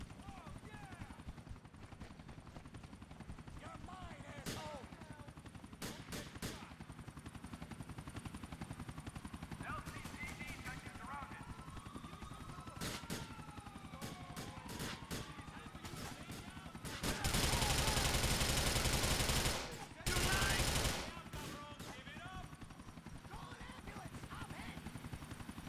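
Gunfire in the video game GTA IV: scattered sharp shots crack over a droning engine bed, then a loud sustained burst of fire breaks out and cuts off, briefly resuming. A person talks throughout.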